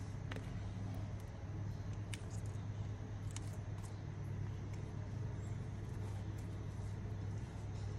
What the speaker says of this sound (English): the motor will get full power from this battery alone